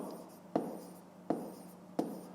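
Pen writing on paper during a fifth-grade maths exercise, a soft continuous scratching with three sharper taps at regular intervals, quiet and close.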